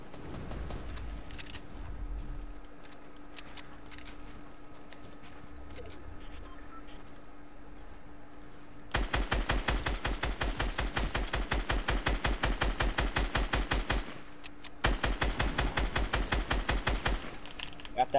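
Rapid bursts of gunfire in a Fortnite match from a sniper rifle, loud dense volleys of sharp shots repeating for several seconds with a brief pause, over quieter game ambience with a voice talking earlier.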